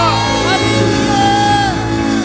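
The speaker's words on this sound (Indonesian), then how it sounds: "Mari kita beri sorak-sorai bagi Dia." A church congregation at a worship service shouts and cheers loudly, a dense wall of raised voices and whoops that carries on without a break, with musical tones ringing underneath.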